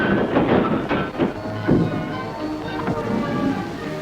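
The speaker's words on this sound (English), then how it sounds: "the express engine backs into the station with all the dignity of the star performer" An express steam locomotive chuffs and hisses at close range as it backs into a station and couples to its train in 1959, with irregular puffs of exhaust over a steady mechanical rumble and no talking.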